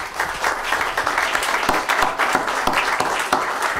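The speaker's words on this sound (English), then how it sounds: "Round of applause for these folks again." A city council meeting audience applauding, a continuous patter of many hands with a few louder nearby claps, brief and lively.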